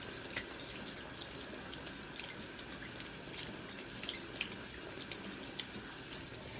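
Warm tap water runs steadily into a sink while cornhole bags are rinsed under it, a continuous splashing hiss broken by small drips and splatters as the fabric is worked.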